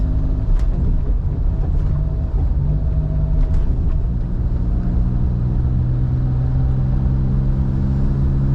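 A Suzuki Jimny with an automatic transmission drives along steadily, its engine a continuous low rumble with road noise that holds even and close throughout, with no talking over it.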